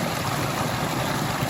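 Rainwater running steadily through a garden pond's overflow after hours of rain, a continuous close rushing wash with no other sounds.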